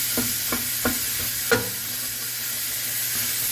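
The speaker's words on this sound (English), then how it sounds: "start breaking up my ground beef" Ground beef being broken up as it fries in a hot pan: a handful of sharp scraping stirs in the first second and a half over a constant close sizzle.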